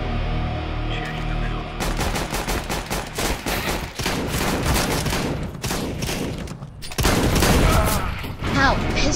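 Pistol and shotgun fire in the video game CS:GO crack in dense, overlapping bursts, loud and continuous throughout, with rapid shots stacking over one another.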